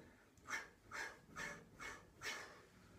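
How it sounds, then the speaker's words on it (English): Five short, sharp breaths in a steady rhythm during a Pilates chi kung breathing exercise, close and fairly quiet with no talk. "Or 4 staccato breaths, breathing coming up"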